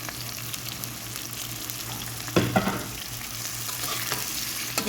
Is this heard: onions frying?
yes